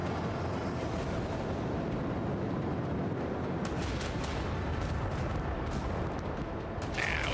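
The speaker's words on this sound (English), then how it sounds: "I need to hit you with my torpedoes." Starship torpedoes striking in Warhammer 40,000: Rogue Trader, a dense rumbling barrage of booming impacts with sharper cracks bursting through in the latter half, loud and continuous without talk.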